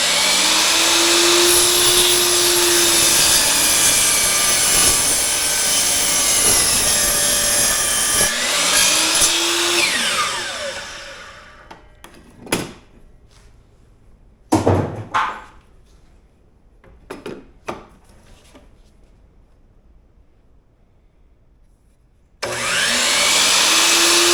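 A power tool cuts a wooden board for a TV tray river table with a loud, steady whine for about ten seconds, then scattered knocks and scraping before the tool starts again near the end.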